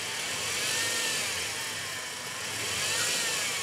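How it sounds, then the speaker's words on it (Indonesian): A 2000 BMW E46 318i with the M43 engine idles smoothly and steadily at close range, a soft continuous hum with faint cyclic wavering and no voices. "Lalu kita dengarkan suara mesinnya"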